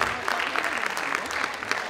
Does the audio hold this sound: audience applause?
yes